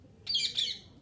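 A Jalali pigeon landing near the caller: one brief, nearby, raspy squawk lasting about half a second, loud against a quiet background.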